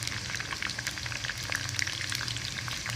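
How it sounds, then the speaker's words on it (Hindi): Moong dal nimco frying in hot ghee, a steady, close sizzle with dense crackling pops running throughout and no voices. "तो इसे हमने तेज़ घी में डालना है"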